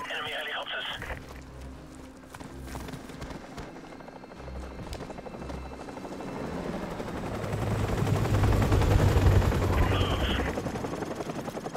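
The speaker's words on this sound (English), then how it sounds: "Enemy helicopters." Enemy helicopters thrum and roar with bursts of gunfire in a Call of Duty: Modern Warfare Remastered mission, swelling louder toward the end, with radio-style voices talking over the battle.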